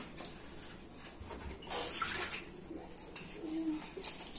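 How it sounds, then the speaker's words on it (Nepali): Dishes and pots are washed by hand with cold water, splashing and trickling in irregular bursts with clinks of utensils, fairly quiet and close, with no speech over it. "भाडा त म धुइहाल्छु"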